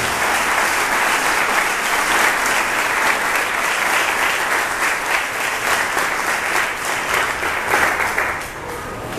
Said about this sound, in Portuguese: Pode aplaudir o Senhor.